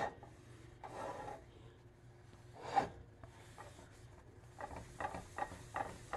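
Oil is rubbed around a warm cast iron pan on a burner with a cloth, giving soft scattered rubbing and rasping strokes, fairly faint and close.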